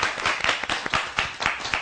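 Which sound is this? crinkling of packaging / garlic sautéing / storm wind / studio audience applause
studio audience applause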